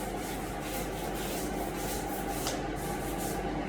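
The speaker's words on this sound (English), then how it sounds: "You just make sure you're scrubbing it all along there, even up here, the mold's gone up here as well" Moldy shower grout scrubbed with hydrochloric acid, a continuous close brushing and rubbing hiss with faint wet swishes, no speech.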